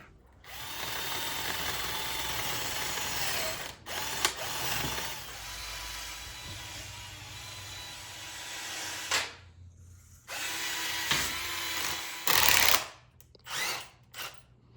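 A power tool removes the bolts from a Mazda Miata NA/NB drive shaft during a Torsen differential swap, running in close, loud, sustained bursts with short pauses between them.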